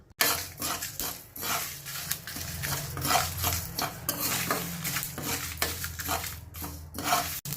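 Flax seeds, fenugreek and chillies dry-roasting in a pan for curry leaf powder, heard as repeated scraping and stirring strokes of a spatula against the metal, with a soft rustle of seeds between strokes.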